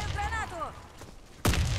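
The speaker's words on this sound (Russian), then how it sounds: "Кидаю гранату!" A grenade explodes in a multiplayer shooter video game, a sudden loud boom with a rumbling low end that hits near the end, just after a voice shouts.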